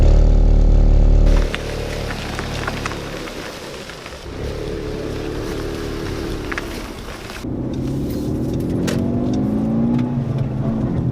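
A Volkswagen Golf GTI Mk6 Edition 35 with a large aftermarket exhaust driving on a bumpy road, the engine note heard from inside, dropping after a brief loud start and then building again as the car pulls away.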